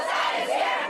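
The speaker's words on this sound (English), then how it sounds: "a pro-Palestinian demonstration at Brooklyn College" Crowd at a pro-Palestinian demonstration at Brooklyn College, a dense, loud wash of many voices yelling and chanting together without a break over a short stretch.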